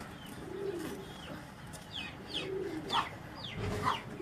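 On a rooftop loft, pigeons coo in soft repeated rolls while a few higher chirps and calls break out now and then, all fairly faint against an open-air background.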